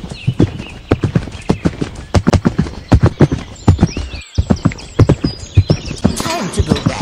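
A horse's hooves clip-clop in a steady close walking rhythm, loud and distinct, as it heads back to pasture, with a brief whinny near the end.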